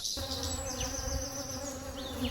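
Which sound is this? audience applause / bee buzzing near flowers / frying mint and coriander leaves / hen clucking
bee buzzing near flowers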